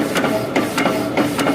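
A power hacksaw machine cutting through a steel axle, its blade stroking back and forth in a steady rhythm of rasping, clanking passes about every third of a second, loud and close.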